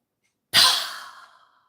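A single close, breathy exhale that starts sharply and then fades out gradually, heard alone against silence with no talking.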